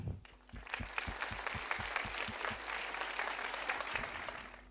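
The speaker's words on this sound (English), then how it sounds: "Please give a big round of applause" An audience at an architecture lecture applauds the speakers with dense, steady clapping that carries on without a break, heard from some distance and moderately quiet.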